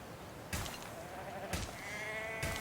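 Sheep in a sheep farm in the video game Anno 1800 bleat in three separate short calls over a steady ambient background, each fairly loud and close.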